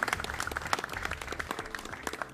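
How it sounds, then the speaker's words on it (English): An audience at a live Irish traditional music webcast applauds, a brief patter of many hands clapping at moderate distance, fairly dense and even throughout. "Give them all those a big round of applause."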